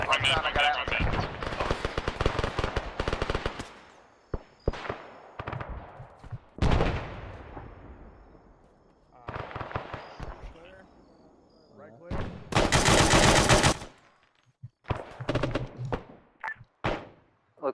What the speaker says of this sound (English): Friendly mortars outbound at SBF position.